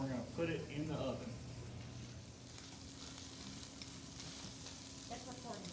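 Steak searing in a pan on a stovetop before going into the oven, giving a steady close sizzle throughout, with a voice talking briefly over it at the start.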